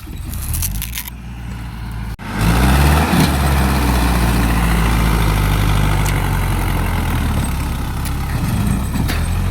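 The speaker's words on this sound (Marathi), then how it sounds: "ट्रॅक्टर नाद करून चालत नाही" A tractor's heavy diesel engine idles and chugs steadily nearby after a brief clunk, its rear tyre stuck, the low rumble constant and loud throughout.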